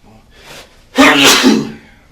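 A single loud, close sneeze bursts out after a faint breath, standing alone with no talk over it.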